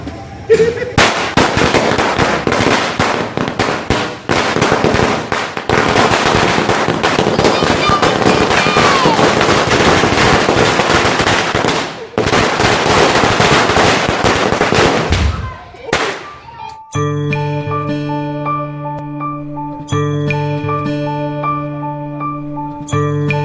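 A long, dense chain of firecrackers bursts in rapid crackling succession at a neighbourhood Ganesh festival celebration, loud and continuous, then gives way to music.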